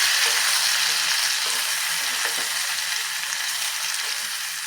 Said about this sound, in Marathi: मिक्स करून घ्यायचं